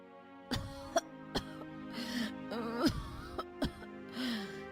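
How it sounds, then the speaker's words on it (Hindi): A cartoon woman coughs in a series of sharp, separate bursts, some harsh and some throaty, with strained moaning breaths between them, close and fairly loud with no talk. "अरे अर्चना, क्या हुआ? ये कैसी खांसी है?"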